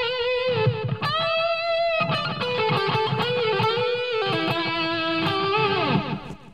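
An electric guitar plays a sustained lead line through a delay effect, with clear held notes and repeating echoes trailing each phrase, loud and close with no talking.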